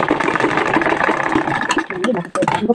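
A sewing machine stitches a handbag in a steady, rapid mechanical whir that runs throughout and breaks into shorter bursts near the end, with a voice talking over it.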